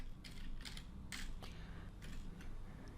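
Typing on a computer keyboard, with several close, soft clusters of key clicks spaced irregularly over a steady low room hum.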